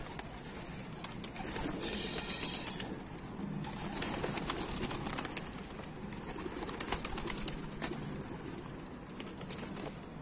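Pigeons coo near a rooftop antenna, repeating soft, throaty calls over a busy outdoor background. The birds sound fairly close, with no talk during the calls.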